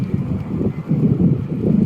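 Strong wind buffets the microphone in a steady low roar, swelling and easing in gusts throughout, on the National Harbor waterfront in Maryland.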